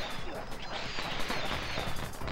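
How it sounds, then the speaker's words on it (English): Fireworks show in the video game Sly Cooper and the Thievius Raccoonus: a dense burst of crackling, popping explosions rattling rapidly over a couple of seconds, fairly quiet. "I didn't even get to see the fireworks show."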